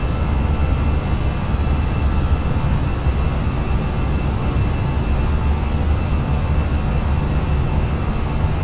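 Steady, dense roar of CFM engines on a Fenix A320 airliner during its takeoff roll in a flight simulator, a loud, unbroken broadband rumble with a faint whine on top and no pauses.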